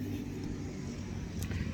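A racing kart engine running on a practice track, a continuous buzzing drone heard from a distance with a slight swell near the end.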